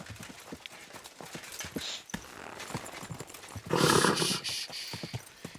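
A horse's hooves clip-clop in a steady rhythm amid ambient noise in the video game Kingdom Come: Deliverance II, with a louder burst of snorting or breathy noise partway through.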